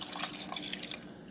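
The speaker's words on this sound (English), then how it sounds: "I'm going to add 1 cup of water." A cup of water pours into a pot of white bean chicken chili, a soft continuous splashing trickle, close and steady for a moment before tapering off.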